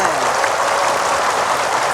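Studio audience applauding at a televised Islamic religious program, Siraman Qolbu, a dense, steady wash of clapping that holds loud and even throughout.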